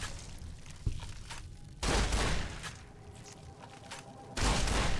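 Gunfire in Fallout New Vegas comes in two loud, sharp volleys a couple of seconds apart, with a single smaller shot before them and quieter game ambience in between.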